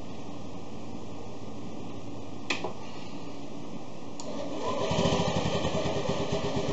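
A Honda Metropolitan/Ruckus scooter engine with the seat removed catches after a couple of sharp clicks, settling into a near, steady putter for the last two seconds.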